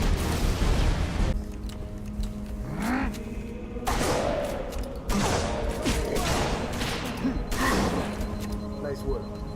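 Explosions and tank combat in Halo Reach: repeated heavy booms and blasts burst out at intervals over rumbling vehicle noise, with someone talking over the action.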